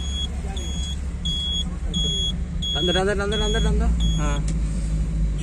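A car at a driving school idles with a low rumble that swells as a learner presses the accelerator. Repeated electronic beeps sound throughout, and people talk over it.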